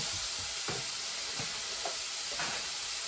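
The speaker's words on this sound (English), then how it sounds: "I'm going to render out the bacon fat and then crisp the bacon up just a bit" Bacon fat renders in a frying pan with a steady, close hiss and crackle, while a few soft scraping stirs break through the sizzle.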